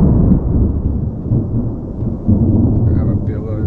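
Deep, rolling thunder from a distant storm over a cabin, a loud continuous low rumble with rain, and a voice briefly speaking near the end.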